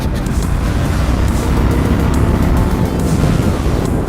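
An Indian FTR 1200 motorcycle, a flat-track-inspired cruiser, is being ridden on the road: a steady, loud drone of engine and rushing wind with no break in the noise.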